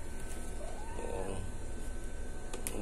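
A cat, bitten by a dog, gives a single faint, drawn-out meow against a steady background hum, fairly distant and soft.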